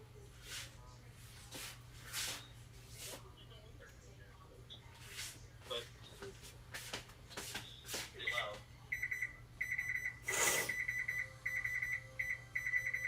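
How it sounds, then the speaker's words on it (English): A kitchen timer beeps in a steady series of short repeated tones near the end, heard over a constant low hum while people talk nearby. "What's that beeping? That's the timer."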